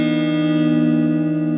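A sustained chord from a Palir Titan electric guitar rings out clean and full through an amp with flat EQ, steady and loud with a warm, bell-like tone and no talking.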